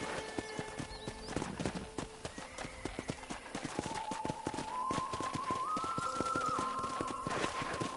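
Horse hooves clip-clop at a steady walking pace in the video game Red Dead Redemption on PS5, with a horse whinnying and soft music in the background.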